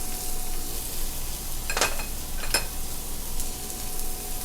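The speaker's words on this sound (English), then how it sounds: "as your onions are caramelizing, we'll go ahead and add some of our spices." Whole cardamom and other whole spices dropped into onions caramelizing in a pan for chicken garam masala, a steady close sizzle broken by two brief crackling bursts, no talking.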